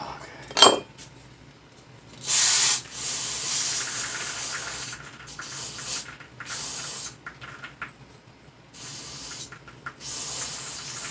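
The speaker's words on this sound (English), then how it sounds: "Why am I cleaning them with brake clean before I wire wheel them?" Brake cleaner sprayed onto Ford Expedition parts in bursts, several loud hissing sprays of varying length separated by pauses, with a sharp metallic clink near the start.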